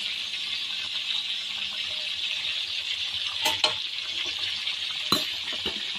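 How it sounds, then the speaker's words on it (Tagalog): A fish curry bubbles and simmers in a pan, giving a steady soft hiss with scattered small pops and a couple of sharp clicks, close and moderately quiet with no talking. "At ayan, kumukulo na yung curry fish ko"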